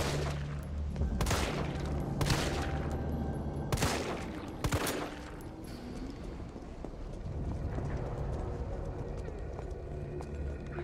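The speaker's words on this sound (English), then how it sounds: "The sound effects for the guns are already way better." Resident Evil 3 Remake gunfire rings out in several sharp, loud shots spaced a second or two apart, then a busier stretch of rapid firing and game noise, with a voice talking now and then over it.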